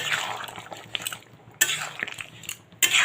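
Spice mix is stirred into vegetables in a pan for shukto, with intermittent wet scraping and clinking of a spoon against the pan in several short bursts, close and moderately loud.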